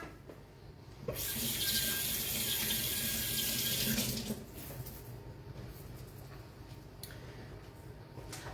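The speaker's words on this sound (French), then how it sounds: "Et on se lave les mains." Tap water runs steadily into a sink as hands are washed, loud and continuous for about three seconds before easing to a softer trickle and background clatter.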